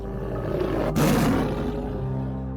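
A tiger gives a loud, close, sustained roar, rumbling deep and swelling briefly before easing off, with no voices over it.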